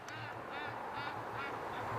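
Ducks quack on a creek in a quick run of repeated nasal calls, fairly close and clear, with no talking over them.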